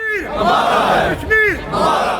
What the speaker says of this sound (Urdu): مظاہرین نے کشمیر کی حمایت اور بھارت کی مخالفت میں شدید نعرے بازی بھی کی۔